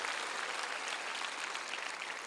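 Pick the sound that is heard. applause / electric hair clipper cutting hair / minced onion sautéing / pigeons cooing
applause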